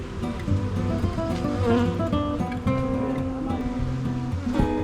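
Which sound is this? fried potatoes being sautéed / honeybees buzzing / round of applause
honeybees buzzing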